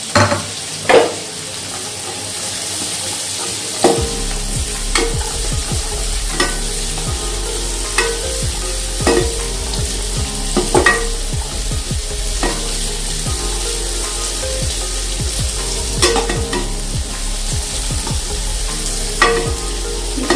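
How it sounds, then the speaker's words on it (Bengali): Cashews and raisins frying in a pan for navratan pulao, with a steady sizzle throughout and repeated sharp scrapes and clinks of stirring, close and loud. "সামান্য একটু ভাজবো, বেশি ভাজবো না। দিয়ে দিচ্ছি কাজু আর কিশমিশ গুলো।"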